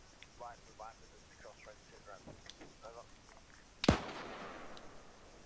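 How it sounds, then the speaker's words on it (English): A single loud gunshot from a military shooter game, distant and sharp with a ringing tail, following quiet talk and faint background noise. "Who's that shooting?"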